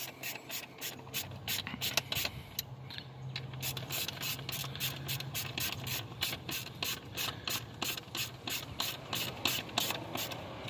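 Ratchet wrench tightening ignition coil bolts on an engine during an ignition coil and fuel injector install, a rapid steady clicking that runs continuously and close up with no talk.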